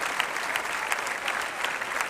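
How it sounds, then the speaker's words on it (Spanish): A church congregation applauds during a sermon, a dense, even roar of clapping with a few sharper claps poking through, sustained and moderately loud. "Denle un aplauso al Rey"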